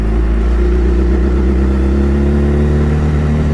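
A BMW S1000RR motorcycle with an aftermarket exhaust idles and revs loudly up close, a deep, throaty, sustained engine roar that rises and falls slightly.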